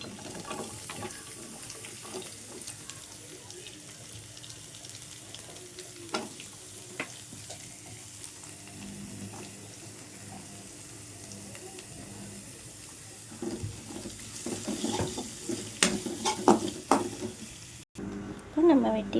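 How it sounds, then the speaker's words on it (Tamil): Ginger, garlic and chopped onion sauté in a pan for an egg masala fry, giving a low continuous sizzle with occasional stirring scrapes and clinks that grow busier near the end, with no talking. "இஞ்சி பூண்டு பச்சை வாசனை போகிற அளவுக்கு வதக்கிக்கலாம்."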